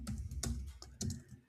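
Close, steady keystrokes clatter on a computer keyboard as someone types a short prompt, with bursts of clicks and brief pauses.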